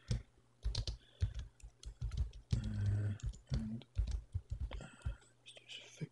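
Close, quiet typing on a computer keyboard, bursts of rapid irregular key clicks and clacks with brief pauses, while a voice murmurs softly throughout.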